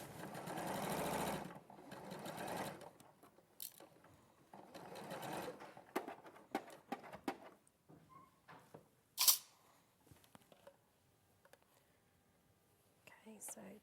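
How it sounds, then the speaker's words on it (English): A sewing machine runs in short bursts, overlocking or zigzag stitching along a fabric edge, its rapid whirring starting and stopping repeatedly, with quiet pauses and faint handling noises in between. "So obviously overlock as you go, or zigzag if you don't have one."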